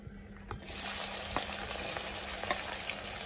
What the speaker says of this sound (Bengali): পেঁয়াজটাকে 10 থেকে 15 মিনিট ভাজবো লাল লাল করে।